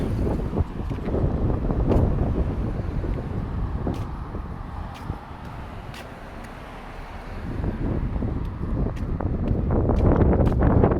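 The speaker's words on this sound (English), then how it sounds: "It's quite windy down here." Wind buffets the microphone in heavy, rumbling gusts that rise and fall on a downtown walk in Halifax, with a few sharp pops as stronger blasts hit.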